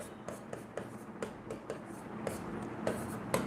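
Chalk or marker strokes on a classroom board during a maths lesson make short scratchy taps and scrapes in an irregular rhythm, close and faint, with no talking.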